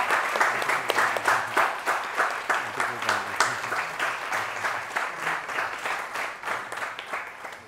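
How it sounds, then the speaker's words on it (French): An audience at a Brazilian state honour ceremony in Benin, where a capoeira master is decorated, applauds steadily and fairly loudly, with dense clapping in rhythmic waves that continues throughout. "Est-ce qu'on peut applaudir ces beaux gestes-là?"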